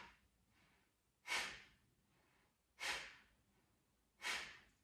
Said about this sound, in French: à l'expire forcé par le nez, on ramène le ventre contre la colonne